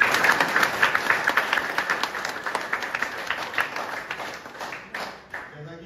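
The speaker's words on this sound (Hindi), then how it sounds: "तो एक बार जोरदार ताली हो जाए" Applause from a meeting audience: dense clapping that starts strong, then thins and fades toward the end, with some voices underneath.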